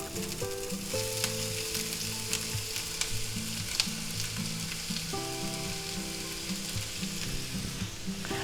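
Half a chopped yellow onion hits a hot pan and fries with a loud, steady sizzle that stays even from start to finish.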